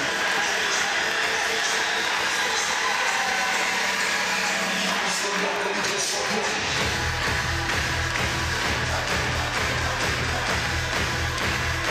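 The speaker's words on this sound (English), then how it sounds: "Crowd alive here in Lawrence." A packed home crowd at a Kansas Jayhawks women's volleyball match in Lawrence roars in a steady, loud wash of cheering, swelling further partway through, with a commentator talking over it.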